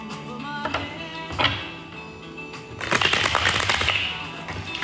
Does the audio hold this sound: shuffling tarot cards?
yes